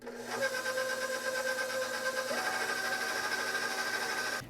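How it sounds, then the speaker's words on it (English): A stand mixer fitted with a dough hook kneads English muffin dough at medium speed, a steady, loud motor whir with a pitch shift partway through, running alone and unbroken. "you want to fit your stand mixer with a dough hook, and you want to blend it at medium speed for 12 to 15 minutes"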